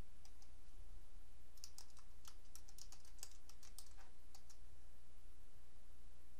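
Someone types a search on a computer keyboard, a rapid run of close, crisp key clicks over a steady low hum, with no talking.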